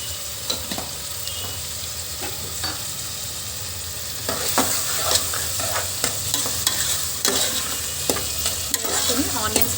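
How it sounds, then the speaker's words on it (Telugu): Onions with green chilies and turmeric fry in oil for a country chicken curry, sizzling steadily as a utensil stirs and scrapes the pan, close and continuous. "ఆనియన్స్ మనకి గోల్డెన్ కలర్ వచ్చేంత వరకు కూడా ఫ్రై చేసుకోవాలి"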